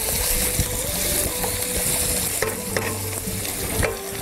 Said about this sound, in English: Okay, so now we need to cook those peppers for a little bit as well.